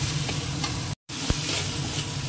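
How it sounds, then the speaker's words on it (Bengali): Spices with turmeric powder sizzle steadily in a hot pan while being stirred, a dense continuous frying hiss with a brief dropout and an occasional scrape of the spoon. "এবার একটুখানি কষিয়ে নিয়ে এটাকে ভালো করে ভাজা করে নিই, মশলাটা যাতে মাথার মধ্যে ঢুকে যায়।"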